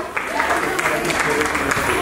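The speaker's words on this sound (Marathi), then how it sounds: "एकदा या सगळ्यांसाठी टाळ्या होऊन जाऊया." Clapping from an audience gathered for a traditional Mangala Gauri dance and game performance at a community celebration, brief and busy, with a few voices mixed into the crowd.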